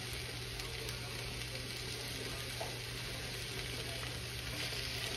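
Food fries in butter and oil in a pan, a steady moderate sizzle with a low background hum throughout.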